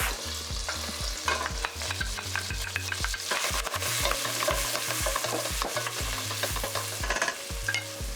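Onions and garlic sizzle hard in a hot pan, a steady frying hiss broken by regular rhythmic scrapes of a spoon stirring them, close and fairly quiet with no talking.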